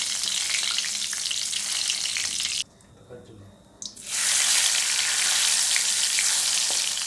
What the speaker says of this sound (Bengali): এবার আমি কড়াইতে সর্ষের তেল দিয়ে দিলাম, আর ফোড়নে দিলাম জিরে, শুকনো লঙ্কা, আর তেজপাতা